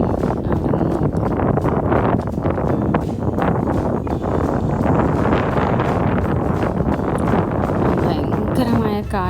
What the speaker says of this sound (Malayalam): ഭയങ്കരമായ കാറ്റും തണുപ്പുമുണ്ട്.